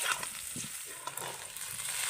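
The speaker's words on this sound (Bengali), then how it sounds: "এইভাবে দিয়ে আমি কিন্তু আবারও একটু নেড়ে নেড়ে ভেজে নেব সবজির সাথে ভালো করে" Fried pieces are stirred together with vegetables in a kadai, giving a continuous close frying sizzle with soft scraping stir strokes. No one speaks.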